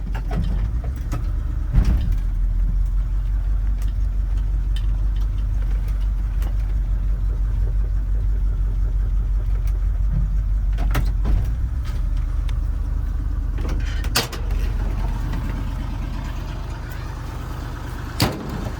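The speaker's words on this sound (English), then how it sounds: "Idling like a champ." A 1974 Ford F100 pickup truck engine idles steadily at close range, a low rumbling drone throughout, with a few brief clicks and knocks and no talking.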